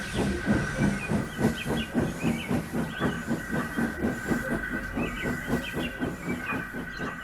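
A steam engine chuffs in a steady, rapid rhythm with a constant hiss of steam, sounding close and continuous.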